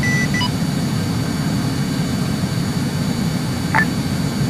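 An aircraft lifts off in the Arma 3 military game, a steady low engine roar with a broad rumbling drone holding constant throughout and no voices.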